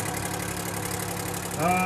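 Detroit two-cycle diesel with a gear-driven blower powering a low-production antique tractor at a threshing show, idling steadily with a low mechanical knock throughout, then briefly louder and higher as it picks up near the end.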